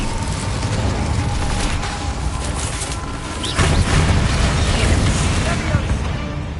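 A fire spell blast from Hogwarts Legacy goes off inside a goblin mine tomb, a steady, loud roaring burst that swells midway and carries on for several seconds.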